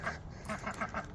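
A duck gives a run of quick nasal quacks, about five close calls in rapid succession, heard alone without talk.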